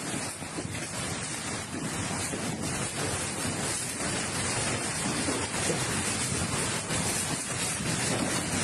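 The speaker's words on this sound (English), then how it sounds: "This is a big storm. Hail, heavy rain." A heavy rain and hail storm in Italy roars as a continuous, loud wash of pounding precipitation, with a gusty, windy texture and no voices.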